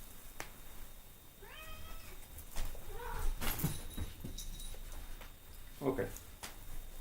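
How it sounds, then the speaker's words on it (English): A pet cat meows several times in a room, a short run of high rising cries near the middle and another near the end, with background room noise and a person speaking nearby. "sorry, my cat again"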